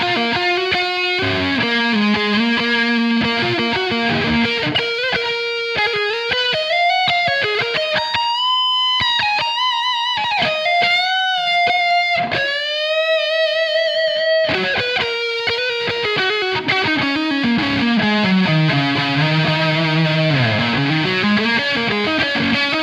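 A Solar AB 4.6W electric guitar on the neck pickup plays high-gain lead lines through distortion, with sustained singing notes, bends and fast runs, loud and continuous with no talking.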